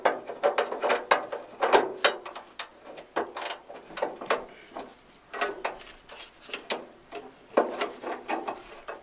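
Hand socket wrench ratcheting on the rear end suspension of a 1986 Foxbody with a 7.5 axle, giving repeated short bursts of crisp clicking strokes, close and fairly loud, with brief pauses between strokes.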